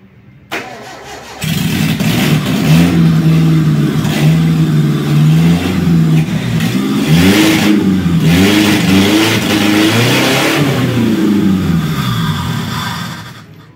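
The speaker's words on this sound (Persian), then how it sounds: "پس قبلش روی زمین موتور حتما باید روشن بشه" Carbureted Nissan pickup converted to Siemens fuel injection cranks briefly and fires up on the first try, then revs repeatedly in rising and falling surges before settling, loud and close with no talking.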